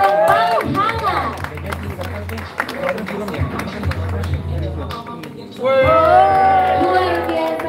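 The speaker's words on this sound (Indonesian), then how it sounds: "Boleh kita tepuk tangan yang paling hangat." A hall audience claps for former world boxing champion Ellyas Pical and his wife, with a steady patter of applause under loud music and an announcer's voice, which swell again near the end.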